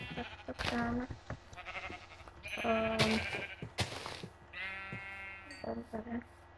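Sheep in a video game bleat several times in wavering, nasal cries, loud and close, overlapping with other game sounds and clicks.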